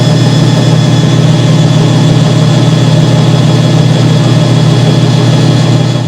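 A Hoover 3021 spin dryer's motor runs in a loud, steady, strained drone with a strong low hum, and its pump is jammed and not engaging; the sound holds constant throughout, close and alone.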